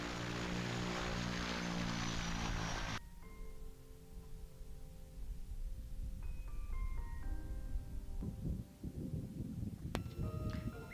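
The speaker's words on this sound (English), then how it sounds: "the twin otter can land as long as it has flat land." Twin Otter propeller plane in the Arctic, a steady droning engine with strong harmonic whine that cuts to a lower rumble partway through, continuing moderately loud.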